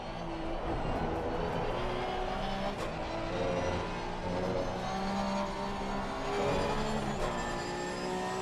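Race car engines from an Assetto Corsa multiclass race with Porsche 992 Cup and BMW M2 cars, a steady loud drone of engine noise and tire roar running throughout, with no talk heard.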